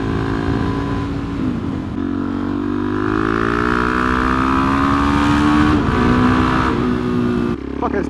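A vehicle engine on a busy road drones loud and close, its pitch rising steadily as it accelerates, then drops away abruptly near the end.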